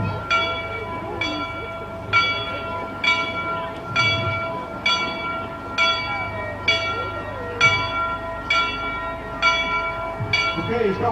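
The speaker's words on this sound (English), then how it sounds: "The bell's ringing." A Canadian Pacific steam locomotive's bell rings in a steady, evenly spaced rhythm of about one stroke every second, clear and fairly close over low rumbling rail-yard background noise at a heritage railway event.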